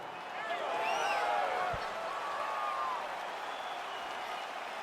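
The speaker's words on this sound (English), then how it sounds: "crowd getting excited as this fight gets underway" A video game crowd at a UFC fight cheers and claps in a sustained roar, moderately loud and continuous, with scattered excited shouts rising over the noise.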